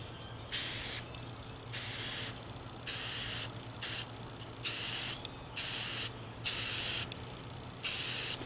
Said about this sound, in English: So I'll give it a shot with the Rust-Oleum self-etching primer.